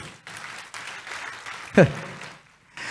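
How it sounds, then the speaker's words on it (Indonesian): A church congregation breaks into brief, short applause beneath a preacher's continuing speech, with a sharp burst of claps standing out near the end. "Katakan amin, tepuk tangan buat Tuhan Yesus."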